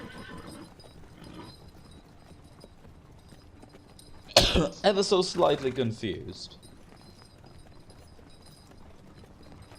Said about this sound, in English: They are riding on horses